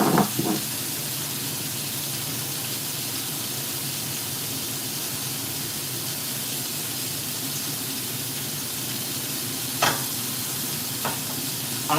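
Steak sizzling in a hot pan, a steady broadband hiss of frying fat that holds at constant level throughout, with a few brief sharper crackles and spits near the end.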